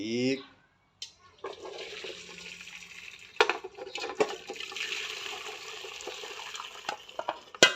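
Blanched Vietnamese-style rice noodles are poured into a strainer, water rushing and splashing continuously for several seconds with a few sharp clanks of the pot and strainer.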